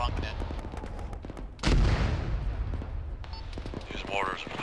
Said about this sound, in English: These mortars are flowing in pretty close.